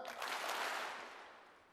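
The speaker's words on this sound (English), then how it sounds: "Give me 2 claps" A live audience at a BUILD22 event claps together in a loud, dense burst of crowd noise that peaks early and fades away, with no separate claps standing out.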